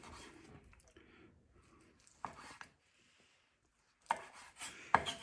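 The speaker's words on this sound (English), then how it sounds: "So you can cut this piece of fat off like this, or you can cut this whole round off here." Knife trimming fat from a ribeye beef roast on a board, with a few soft, wet slicing strokes and quiet scraping separated by pauses, close and fairly faint.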